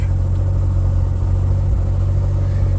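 A Mazda RX-7 rotary engine idles just after a cold start, a steady low rumble with a pulsing, uneven beat that stays constant and close throughout, with no talking.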